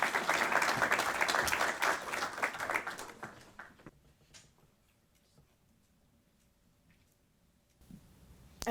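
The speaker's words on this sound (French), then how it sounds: "On peut l'applaudir." Applause from the audience at a debate contest semi-final swells briefly and then thins to a few scattered claps by about four seconds, leaving near quiet with faint isolated taps before a small rise at the end.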